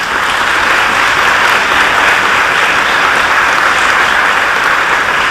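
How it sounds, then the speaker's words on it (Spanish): Sustained audience applause at a film festival, dense and steady throughout, loud and close with no voices over it. "para el que pedimos otro aplauso"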